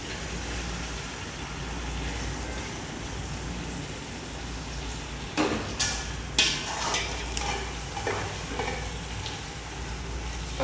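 Sliced tomatoes frying in a pan for chicken biryani, soft steady sizzle with a few clustered stirring clatters toward the end, low hum underneath.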